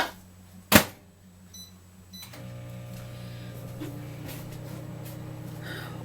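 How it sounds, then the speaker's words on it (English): A sharp click or beep, then a steady low hum of a microwave oven running while heating glycerin soap base, with faint clatter in the background. "we're going to stick it back in the microwave"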